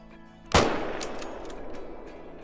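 A single loud Mosin rifle shot cracks out at a warthog while hunting in Call of the Wild, sharp and close, followed by a long rolling echo that fades over two seconds.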